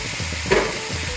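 Chopped lofa greens tipped into a hot frying pan with spices and stirred, giving a short burst of sizzle that rises briefly over steady background frying, close and moderately loud.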